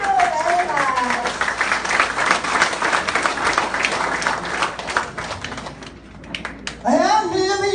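An audience applauds a speaker at a talk, loud continuous clapping lasting several seconds and fading briefly before a voice starts speaking over the tail.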